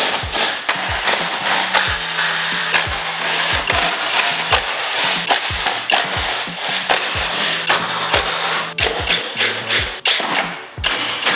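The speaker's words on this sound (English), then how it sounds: "we're going to begin by disassembling the front bumper" Tools work on the front bumper of a 1980s BMW: a dense, rapid string of sharp clicks and ratcheting clacks, loud and close, with brief low mechanical hums between bursts.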